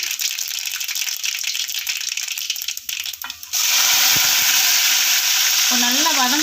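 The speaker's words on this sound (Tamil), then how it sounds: "இப்போ நம்ம கடுகு உளுந்தம் பருப்பு வெந்தயம் சேர்த்துக்கலாம் நல்லா பொரியட்டும்" Loud crackling and popping as mustard seeds, urad dal and fenugreek splutter in hot oil, intensifying sharply partway through, with clinks of a utensil.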